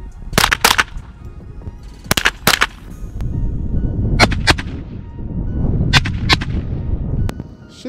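Rifle shots fired at a steel target and military body armor and helmet outdoors, loud sharp cracks in spaced pairs and clusters over steady background rumble, no talking.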